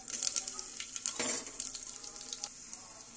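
Cumin, coriander seeds, fenugreek and garlic cloves frying in hot oil, a bright steady sizzle with crackling bursts, one louder flare partway through, no voices.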